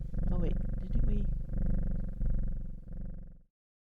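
A cat in the game Strange Horticulture purring while being petted, a low, steady rumbling purr in pulsing waves that stops abruptly before the end.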